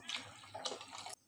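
A brief splash of water poured into a pot of rice for palak pulao, a short rushing gush that stops abruptly.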